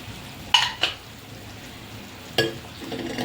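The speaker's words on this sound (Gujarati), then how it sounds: "એને થોડીક વાર આપણે હલાવશું" Spoon scrapes and knocks against a pan while stirring Kathiyawadi red chilli chutney in oil, a few separate bursts of scraping over a low frying hiss, nearby and alone.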